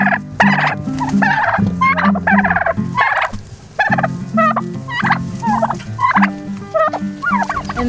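Five turkeys housed in a farm sanctuary hutch gobble in steady, overlapping bursts, close and loud, calling back and forth for several seconds without any human voice.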